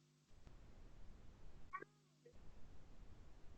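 A short, faint meow from a cat on a cold, rainy day, heard once midway through a quiet indoor scene with low background hum.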